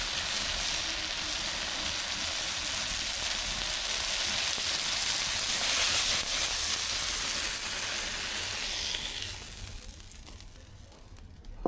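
Eggplant frying in oil in a pan for a winter khichuri meal: a steady, loud, close sizzle that holds for about ten seconds, then thins out and quiets near the end.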